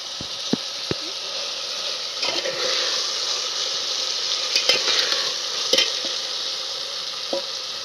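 Spiced masale bhat rice mixture with turmeric, peanuts and salt stirred in a pan, a bright steady frying hiss with occasional spoon taps and scrapes close by.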